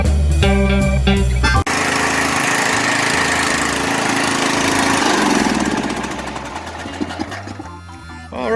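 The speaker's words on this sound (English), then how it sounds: "it runs pretty good when it starts, but as you can hear, it's not going to start." An old Agway 16.5 HP lawn tractor engine cranks loudly and sputters unevenly, a rough mechanical roar that sags and fades toward the end without catching into a steady run.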